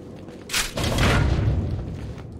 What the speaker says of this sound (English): The gunshot came from the bell tower.